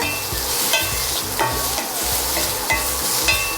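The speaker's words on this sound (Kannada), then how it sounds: "ಈಗ ಪನ್ನೀರ್ ಚೆನ್ನಾಗಿ ಫ್ರೈ ಆಗಿದೆ" Paneer cubes fry in a hot pan with onion, capsicum and tomato sauce, a loud continuous sizzle broken by regular spatula scrapes and knocks as the pieces are stirred.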